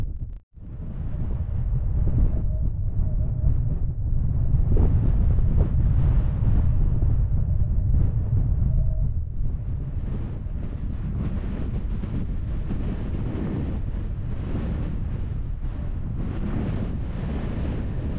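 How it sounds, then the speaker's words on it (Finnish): Strong wind roars across the microphone on an exposed fell ridge, loud and gusting with rough buffeting surges throughout and no voices. "niin alkaa vähän kyllästyttävää toi tuuli"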